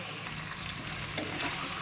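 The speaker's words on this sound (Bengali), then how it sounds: "আদা রসুন দিয়ে ভালো করে নেড়ে নেড়ে লাল মতন হয়ে যাবে" Chicken frying with ginger-garlic paste sizzles loudly and steadily in a pan while being stirred, with scraping stirs mixed into the continuous hiss.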